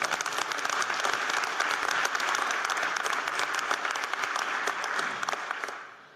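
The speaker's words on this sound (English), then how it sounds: "A round of applause congratulating." Audience applause at a Board of Regents meeting, a steady round of many hands clapping that holds evenly for several seconds before tapering off at the end.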